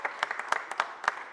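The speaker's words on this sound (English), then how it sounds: "Give Councilwoman Rue Landau a round of applause." Brief applause from the audience at a mayor's press conference, scattered claps of moderate loudness lasting about a second.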